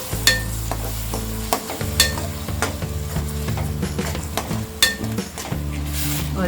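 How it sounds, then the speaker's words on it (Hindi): Tomato, cashew, green chilli and ginger paste frying with spices in a pan, with a low sizzle beneath repeated sharp metal spoon scrapes and clinks against the pan as it is stirred. "अब हम इसमें डालेंगे ये टमाटो, काजू, ग्रीन चिलीज और अदरक का पेस्ट, मिक्स करते हैं"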